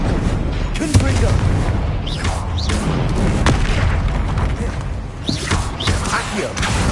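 Hogwarts Legacy spell combat has repeated Confringo blasts booming over a dense, busy layer of rumbling and crackling game effects, with a voice calling out spells throughout.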